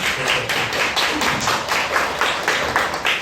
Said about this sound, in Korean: 박수 한번 쳐주시면.